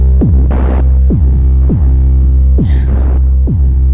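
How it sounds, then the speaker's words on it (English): Lyra-8 drone synthesizer output modulated by a Moog DFAM, a loud, steady low drone pulsing in regular throbbing swells about once a second, with occasional brighter buzzy flares, alone with no voices. "so now you're actually only hearing the Lyra-8 output now"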